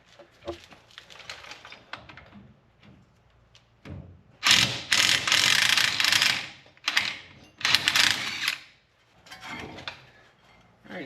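Ratchet working on the 17 mm front brake caliper bolts of a first-generation Toyota Tacoma, giving rapid clicking bursts in a few loud separate runs with quieter handling sounds between, close by.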